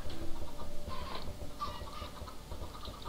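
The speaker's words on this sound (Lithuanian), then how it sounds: "Bet tik nebandai mano vištų kilinti." Chickens clucking in a video game on a private server, soft repeated clucks over a steady low background hum, fairly faint and with no talk.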